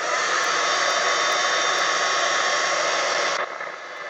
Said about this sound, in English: Okay, heat gun. If I don't dry in between layers